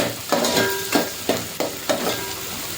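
Tomatoes and coriander sauté in hot oil for sambar, a close sizzle broken by a rhythmic series of scraping stirs roughly every half second.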